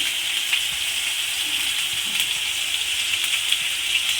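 A chopped medium tomato with salt fries in hot oil in a pan, a continuous close hiss and sizzle with faint crackles and no talking.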